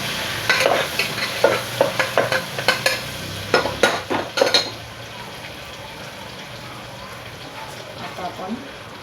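Garlic frying in hot oil for masale bhat, a steady sizzle broken by a rapid series of loud spoon clanks and scrapes against the pan for several seconds, then quieter frying, with someone talking over it.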